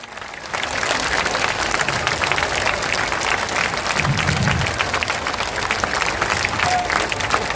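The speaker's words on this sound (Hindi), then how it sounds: "जोर से ताली बजाइए" Large rally crowd at a party founding event claps loudly and steadily, a dense sustained wave of applause that holds for the whole stretch, with a brief low murmur of voices midway.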